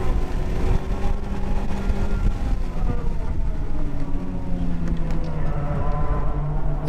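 A Honda Civic Type R FK8 runs fast on the Pocono race track, its engine a sustained roar with rising pitch sweeps as it accelerates and shifts, heard from inside the car amid constant road and wind noise.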